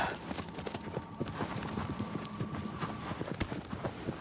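A horse gallops in the video game Shadow of the Colossus, a rapid, steady clip-clop of hooves running the whole time over a dense, noisy background, with no voice over it.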